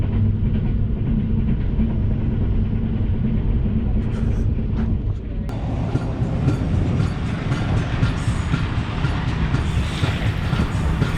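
An express train rolls slowly through a station in Pakistan at around 20 to 25 km/h, a loud, continuous low rumble and clatter with heavy wind buffeting on the microphone throughout.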